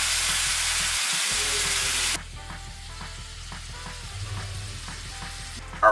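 Citrus glaze sizzling hard in a hot pan with salmon, a loud steady frying hiss that drops to a softer crackle and bubbling partway through, with a brief clatter at the end.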